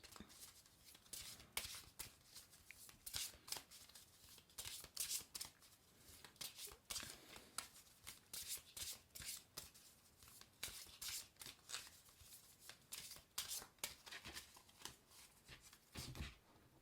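Oracle cards from a good-luck themed deck being shuffled by hand, a steady run of crisp riffling and sliding bursts that continues close and clear for the whole stretch, with no talking over it.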